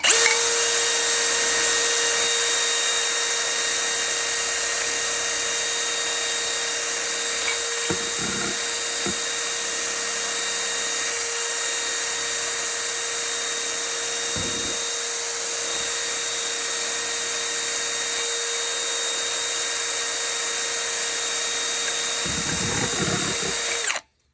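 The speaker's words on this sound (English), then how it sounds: "So I have a drill laying on the floor. I got my wire brush there" A drill whines at a steady high pitch with an abrasive wire-brush scrubbing during annual heating maintenance, running continuously and close with only brief dips before stopping.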